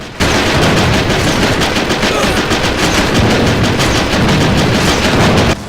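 Loud, constant machine-gun fire and explosions from the video game Contra: Shattered Soldier on PS2, a dense, unbroken barrage that runs at full level from start to finish.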